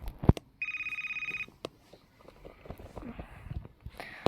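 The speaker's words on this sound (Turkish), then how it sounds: "Bence Kerim'i arayalım" A phone rings out on an outgoing call, one steady ringback tone lasting about a second, surrounded by shuffling, footsteps and light handling noises nearby.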